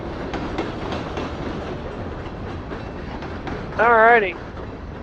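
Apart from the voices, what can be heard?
trains passing by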